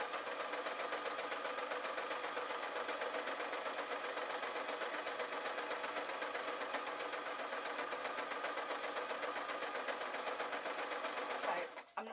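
A sewing machine stitches elastic onto cloth for a gypsy top, running steadily and close for nearly the whole stretch with a continuous dense whir, then stops abruptly near the end.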